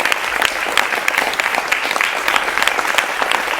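Loud, sustained applause from a studio audience welcoming a panel of defence experts on a TV news debate show, a dense, even patter of many hands throughout with no gaps.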